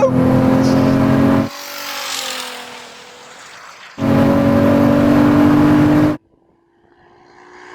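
A 3,000 hp SUV and a Ferrari SF90 accelerate hard in a drag race, loud engine roar in two bursts separated by a quieter gear change, with rising whine and fading passes.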